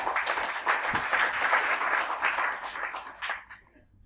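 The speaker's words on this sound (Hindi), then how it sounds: "आपकी जोरदार तालियों के साथ मैं माइक देना चाहूंगा मिस्टर ब्रिज बिहारी जी।" Applause from an audience at a product training program in India, brisk clapping that swells, stays lively for a few seconds, then thins out and fades to silence.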